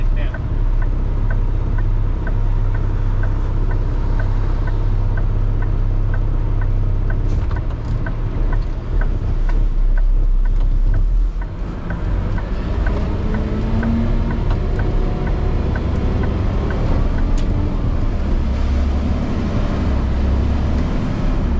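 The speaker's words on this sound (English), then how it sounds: "here comes the tractor trailer right now" A tractor trailer rolls past on a busy street as heavy, low engine rumble and road noise, heard from inside a working garbage truck whose own motor drones throughout. Occasional voices talk over it.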